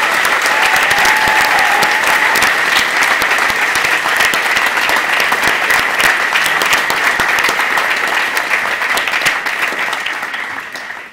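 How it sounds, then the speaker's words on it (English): A school drama audience gives sustained applause for the technical crew, a thick crowd of hand claps continuing evenly for several seconds and slowly fading toward the end. "I would say a round of applause for"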